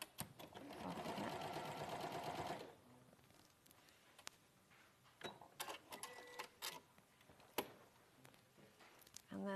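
A sewing machine stitches fabric in a short steady run of rapid mechanical chatter lasting a couple of seconds, followed by quiet handling clicks and taps.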